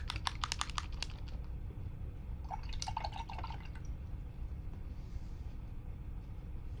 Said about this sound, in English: going to wash my brush.